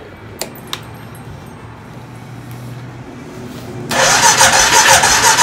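A four-wheeler with a dead battery gives a couple of faint clicks, then a loud, steady mechanical whirring of the engine turning over kicks in and keeps going.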